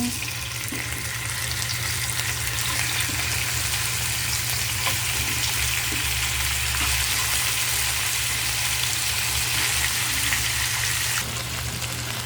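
Chicken and ginger strips sauté in a pan with a steady, close hiss of frying that runs unbroken, dotted with faint stirring taps, while a low hum sits underneath.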